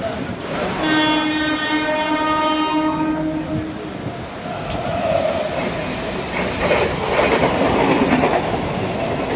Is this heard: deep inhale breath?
no